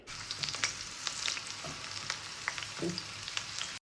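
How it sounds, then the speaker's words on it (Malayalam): Steady crackling sizzle of breadfruit slices frying in hot oil, with occasional spatters and a stirring scrape, close up and without voices. "എണ്ണയിൽ ഇങ്ങനെ ഇളക്കണ സമയത്ത് കലപ്പിലാന്ന് സൗണ്ട് വരുമല്ലോ"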